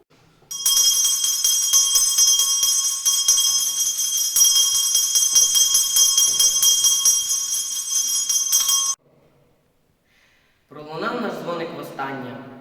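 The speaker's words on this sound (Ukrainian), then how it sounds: "Право подати останній дзвоник надається випускникам." An electric school bell sounds the last bell at a 2024 end-of-school ceremony with a steady, piercing metallic ring that lasts about eight seconds and then stops abruptly. After a short pause, a voice begins speaking.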